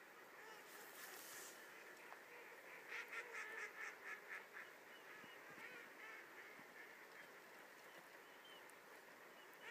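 Distant waterfowl calls carry over steady background noise, with a short run of whistling, honking notes from a duck call in the middle, faint and outdoors at a duck hunt.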